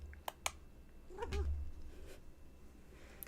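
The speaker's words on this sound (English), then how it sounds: "Oh, are you meowing at me?" A pet cat lets out a short, faint meow close by in a quiet indoor room, preceded by a couple of small clicks.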